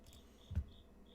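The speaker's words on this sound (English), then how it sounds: "Man, that Cicada is just, like, going to town out there." Faint, steady cicada buzz from outdoors, thin and continuous in the background, with one soft low thump partway through.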